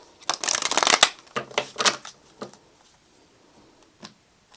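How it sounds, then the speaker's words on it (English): Tarot cards are shuffled in quick riffling bursts over about two and a half seconds, followed by a couple of faint, isolated card taps and near silence, with no voices. "One more shuffle, please."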